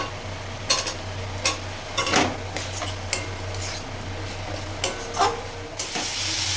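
Capsicum frying in a pan with a little sugar, giving a steady low sizzle broken by several sharp utensil scrapes and clinks as the pieces are stirred; no voices.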